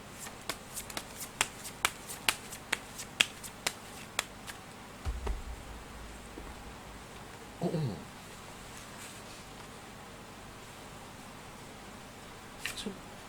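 Fortune-telling cards shuffled by hand, starting with a rapid run of crisp riffling clicks and then giving way to softer, scattered handling noises and a few brushes. The sound is close and moderately quiet, with no talking.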